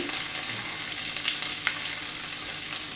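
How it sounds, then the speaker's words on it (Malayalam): Crushed ginger and garlic sautéing in a pan for Kerala-style beef, a steady close sizzle with light scraping from stirring, no talk. "ഇനി ഇതെല്ലാം കൂടി നന്നായിട്ടൊന്ന് വഴറ്റിയെടുക്കണം"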